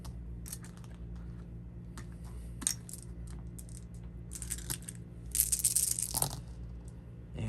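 A handful of eight dice is rolled for a tabletop RPG, a clattering rattle as they tumble and settle on a hard surface after a few light earlier taps.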